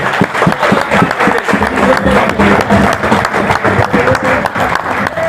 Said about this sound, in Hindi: जोरदार ताली होनी चाहिए सबके लिए